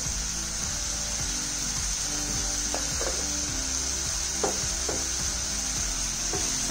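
Onions frying in a pan seasoned with rock salt, a steady close sizzle under repeated scraping strokes of a spoon stirring through them, with no one talking.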